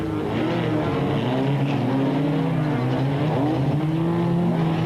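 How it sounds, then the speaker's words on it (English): Race cars roar past in an early stage of a 1998 Super Series race, including a VW Turbo overtaking slower cars, with loud sustained engine tones rising and falling in pitch as they pass. "Jackie Hubert in the Jojo Tanks VW Turbo was pushing hard, also taking no prisoners, overtaking some of the slower cars in the early stages of the race."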